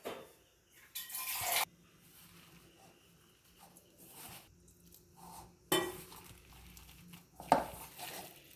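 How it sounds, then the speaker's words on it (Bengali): Spinach leaves and besan (gram flour) batter are mixed by hand in a bowl, giving soft wet squelching and rubbing with a few sharper clinks of the bowl, quiet and close with pauses between bursts. "আমার মাখানো হয়ে গেছে মাখানোটা এই রকম হবে বেসন আর শাকটার মধ্যে এই রকম মিশ্রণটা হবে"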